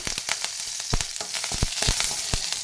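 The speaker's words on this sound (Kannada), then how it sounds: "ಸ್ವಲ್ಪ ಜೀರಿಗೆ ಹಾಕ್ತೀನಿ. ಸ್ವಲ್ಪ ಕರಿಬೇವು ಹಾಕ್ತೀನಿ." Cumin seeds and curry leaves fry in hot oil for a green pea snack, a loud, close hiss with sharp crackling pops spaced through it.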